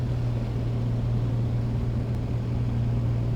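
A Piper Comanche light-aircraft engine in the A2A Accu-Sim flight simulator drones steadily with a low, raspy hum, loud and constant throughout, with no talking.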